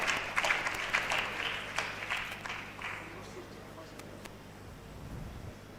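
A seated audience at a legal moot court valedictory ceremony applauding the winners, steady clapping that starts strongly and gradually thins out, with a voice speaking faintly over the end.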